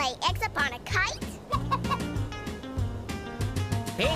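Cartoon hens cluck in short, bouncy bursts over a cheerful music bed, with a voice singing along through much of it.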